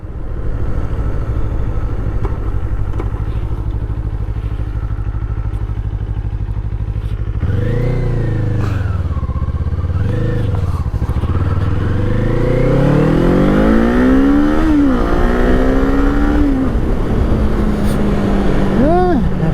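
A small Kawasaki Eliminator 500 motorcycle rides through town neighborhoods at low speed, its engine droning steadily under wind rumble and then rising and falling through several gear changes and revs.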